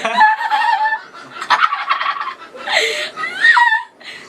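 Geese honk and cackle in a noisy, overlapping run of nasal calls, close and loud, several birds calling in rapid bursts with brief pauses between them.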